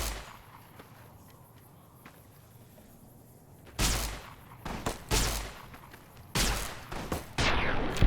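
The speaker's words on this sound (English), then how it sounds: "You just shooting me from a distance, dude." Video game gunfire: a quiet, murmuring stretch gives way to several loud, sharp bursts of shots that repeat irregularly through the second half.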